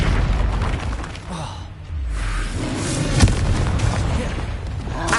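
A fiery Confringo spell blast in Hogwarts Legacy booms through dense game noise, a broad rumbling explosion with a brief sharp crack, sustained and loud across the short stretch.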